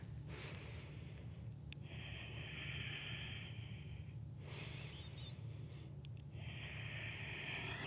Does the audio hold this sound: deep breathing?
yes